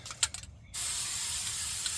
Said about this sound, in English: I've got a bit of fluid film here. Like to spray this on the face of my hubs.